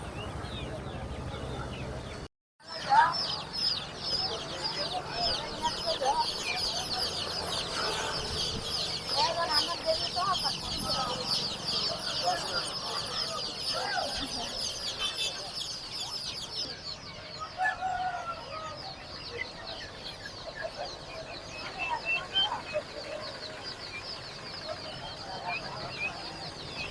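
Many chickens cluck and chirp continuously close by at a livestock market in Ranipet, with a busy market bustle and faint voices underneath.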